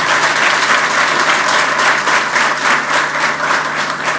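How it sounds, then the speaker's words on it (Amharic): An audience at a televised arts event applauds in a loud, dense, sustained burst of clapping that fills the whole stretch, with no talk over it. "እንድናጨበጭብ ጋብዛለሁ"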